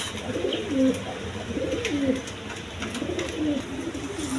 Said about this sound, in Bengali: দেখেন একদম ছটপট কবুতর